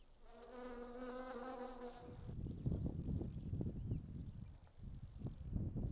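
Bees buzzing around a flowering plant in South Africa's Welgevonden Game Reserve, a close droning hum at first that gives way to softer, rumbling outdoor noise.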